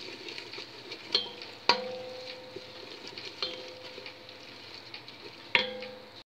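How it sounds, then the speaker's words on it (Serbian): Chopped onion and a couple spoonfuls of flour fry in a pan with a soft sizzle, punctuated by sharp ticks and clinks of a utensil against the pan at irregular intervals, quiet and close. "To ću malo propržiti."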